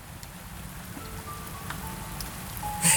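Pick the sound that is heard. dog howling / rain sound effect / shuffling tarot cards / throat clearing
rain sound effect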